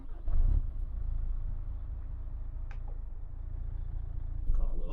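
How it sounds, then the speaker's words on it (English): A Mercedes Actros MP1 truck in a driving-simulator game shuts off its engine with a low, steady rumble that holds fairly evenly for a few seconds, with a heavier thump at the start and at the end. "the engine just makes a bit of a rumble when you turn it off."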